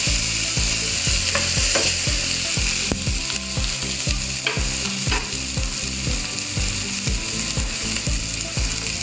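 Onions being stir-fried in a pan before freshly caught crabs go in for a coconut-milk crab curry. Loud, rapid, rhythmic spatula strokes scrape over a constant close sizzle, with no speech.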